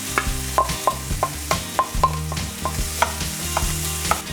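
Rice being stir-fried with yellow pepper and mushrooms, a spatula scraping and tapping the pan in a steady series of clacks over a soft sizzle, close and clear with no talking.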